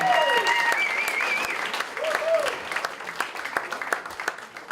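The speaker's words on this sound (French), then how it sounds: "Tous les bénévoles, d'ailleurs, méritent, je pense, une bonne main d'applaudissements." Festival audience applauding volunteers, a dense crowd clapping steadily, with a voice speaking over the start before the clapping thins out toward the end.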